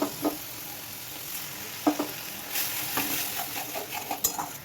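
Turmeric, chili and coriander powder paste frying in a pan for egg tarka, giving a steady close sizzle broken by a few sharp spatula scrapes and stirring clinks.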